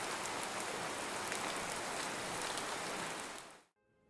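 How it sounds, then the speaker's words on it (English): A steady rain sound effect hisses evenly, dense and full like rain falling on a surface, before cutting off abruptly near the end. "Sometimes I enhance the sound of the scene by using downloaded sound effects like rain,"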